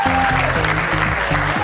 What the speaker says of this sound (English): give a round of applause for yourselves for being at the first